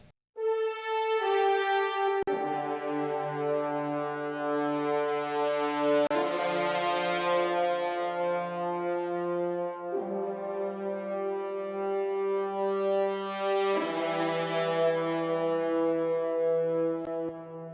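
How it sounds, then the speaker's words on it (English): Sampled industrial horns and trombones stacked in octaves play long, loud, brassy sustained notes, with chord changes and leaps between pitches and swelling brightness on each new note. "I am doubling horns and trombones so we get a nice big brassy sound"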